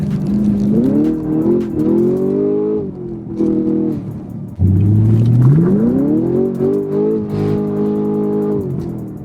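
A Ford Mustang pushrod engine revving hard at high rpm on a private track, its pitch climbing and holding through gear changes, loud and close with a sharp surge midway.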